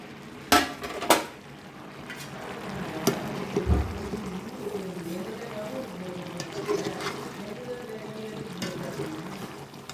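Macaroni stirred in a cooking pot with a spoon, metal scraping and clinking against the sides in two sharp knocks early on, then softer bubbling and stirring sounds with occasional taps, close by.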